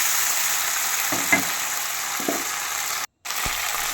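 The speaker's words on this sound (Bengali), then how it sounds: "সেটার মধ্যে দিয়ে দিলাম। দিয়ে ভালো করে একটু নেড়ে নিচ্ছি।" A paste of black and white mustard seed with green chili fries in hot oil in a pan with fish, giving a loud steady sizzle with a few soft stirring scrapes and a momentary cut.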